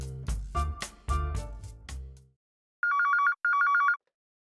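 Telephone rings in a Telugu TV serial comedy scene: several loud electronic ringtone bursts, then two quick trilling bell-like rings followed by silence.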